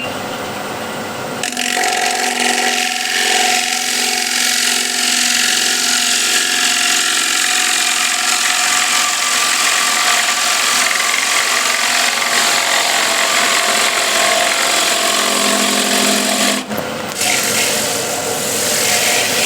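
A lathe spins a large wooden bowl while a turning tool cuts the wood in one long continuous pass, giving a loud, steady rushing and grinding hum that stops briefly near the end.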